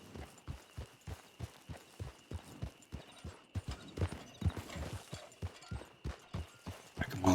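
Horse hooves clip-clop in a steady, even rhythm from a ridden mare in a Western video game, the beats loud and close, with the pace briefly quickening and bunching up partway through before settling back.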